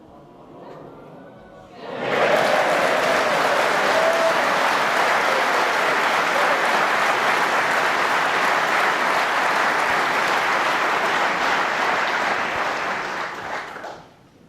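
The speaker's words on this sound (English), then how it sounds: "Big cheers from the other side of the arena." Loud, sustained crowd applause and cheering fill a snooker arena at the World Championship, rising abruptly after a quiet stretch, holding steady for about twelve seconds and tapering off at the end.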